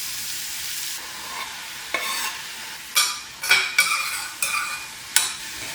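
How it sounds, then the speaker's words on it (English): Zucchini and onion sizzle in coconut oil with caraway seeds in a kadai, a steady close frying hiss broken by several sharp scrapes and clinks of a stirring utensil against the pan. "With a tablespoon of coconut oil in a kadai, half a teaspoon of caraway seeds, 1 zucchini, 1 medium-sized onion."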